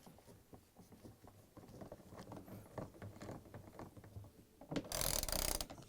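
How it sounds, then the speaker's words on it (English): A 3/8 socket wrench ratchets bolts onto a Frigidaire washer tub during a tub seal replacement, giving a series of quiet, close clicking strokes, then a short louder burst of scraping noise at the end. "So we're going to use a 3/8 socket wrench."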